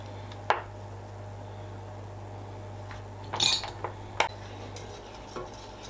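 A spoon scrapes and clinks against a pan while a cheese sauce with salt, pepper and mustard powder is stirred, a few sharp taps scattered over a quiet, humming background.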